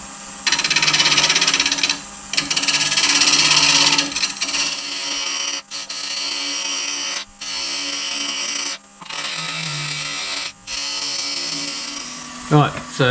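A wood lathe hollows out a sapele tealight holder, the cutting tool rasping and scraping loudly in repeated passes with short pauses between them.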